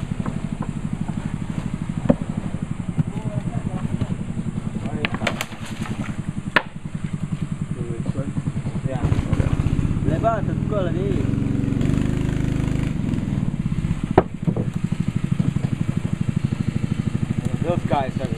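A boat motor chugs and idles on a river in the Amazon rainforest, a low, pulsing engine drone that shifts in pitch and level while people talk over it, with occasional knocks and clatters.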